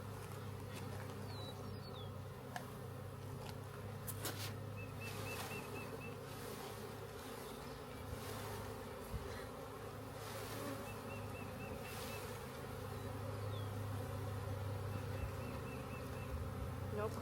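A constant close hum of honeybees fills the whole stretch, swelling slightly now and then, with a few faint bird chirps in the background.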